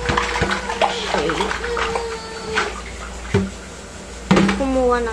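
Water runs from a tap into a container being filled for cleaning, a loud continuous gush with a few clanks and splashes, while a person talks over it.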